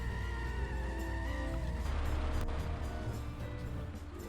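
A diesel car engine in the Simpsons Hit & Run video game drones steadily at low volume, with a deep continuous rumble that shifts slightly in tone partway through and plays without talk.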